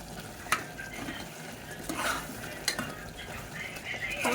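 Mushrooms with turmeric and garam masala are stirred in a pan for a mushroom biryani, giving soft scraping and a few sharp spoon clicks over a faint low sizzle, quiet and close.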